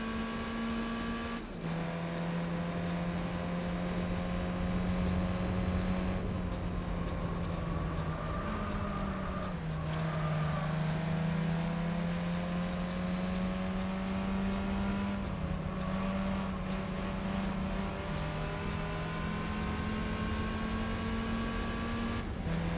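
A car engine in Gran Turismo drones steadily with a loud, sustained tone that rises and falls through gear changes and revs, running continuously without any talking.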